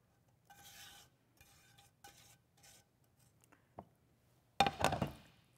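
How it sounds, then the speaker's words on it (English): A sugar and chocolate mixture being stirred into all-purpose flour in a bowl, with soft intermittent scraping strokes and a louder clatter of utensil against the bowl near the end. "Stir that together."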